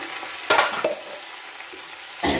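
Buttermilk poured briefly into a hot pan and quickly poured back out, giving two short sizzling, splashing bursts with a faint stirring scrape between them, close and fairly quiet with no talking.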